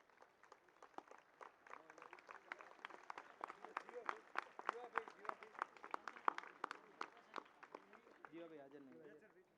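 Enthusiastic clapping from a seated audience honoring a man named Kanubhai Kherpur at a recognition ceremony; dense, steady hand claps carry on for several seconds before tapering off, with a voice starting up at the end.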